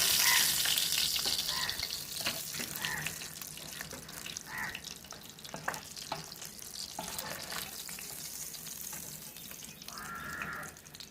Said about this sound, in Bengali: খুব সুন্দর করে একটা সাইড করে ভাজা হয়ে গেছে, আর একটা পিঠও আমরা ভালো করে ভেজে নেব।